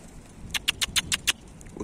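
A Mardin pigeon struggles to land, giving six quick, evenly spaced bursts of wing flapping up close, then settling into quiet.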